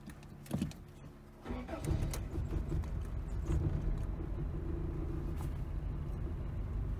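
A 1988 Toyota Corolla with a bad carburetor cranks and fires up, settling into a loud, steady, rough running rumble close by after a brief quieter start.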